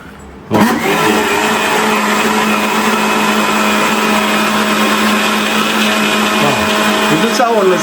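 A new Preethi Zodiac mixer grinder starts up and runs at full speed, a loud steady motor whine with a grinding rattle that stays even to the end, with a voice briefly heard beneath it.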